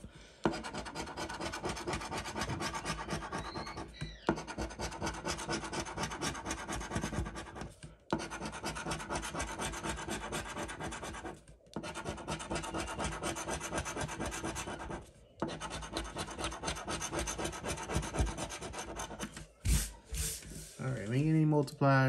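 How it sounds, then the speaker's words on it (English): A scratch-off lottery ticket being scratched in long continuous rubbing bursts, close and fairly loud, with brief pauses between passes and a short burst of talk near the end. "Oh, this one scratches nice."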